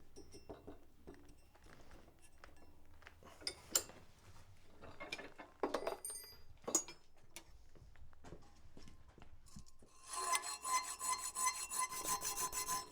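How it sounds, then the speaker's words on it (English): Hand file cutting a slot in a wrought iron Suffolk latch in a workshop, with irregular rasping strokes and handling clatter, then a rapid, steady run of harsh filing strokes toward the end. "so I'm going to file it instead."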